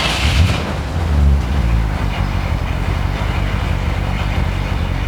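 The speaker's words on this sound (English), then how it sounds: "it sounds wonderful when you fire it up." A 1969 Corvette Stingray convertible's 350 V8 fires up and settles into a deep, loud burbling idle through the factory exhaust, a heavy low rumble with a couple of revving swells near the start.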